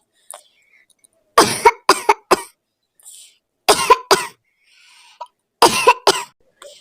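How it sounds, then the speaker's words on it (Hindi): Several bursts of harsh coughing come in clusters of two or three, close and loud, separated by quiet pauses and faint wheezy breaths. "कुकू की खांसी और भी बढ़ गई है"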